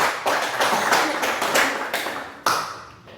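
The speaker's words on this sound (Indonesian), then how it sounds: "kita tepuk tangan" Schoolchildren in a classroom clapping together, a few rhythmic bursts of hand claps close by, with one sharp final clap before it trails off.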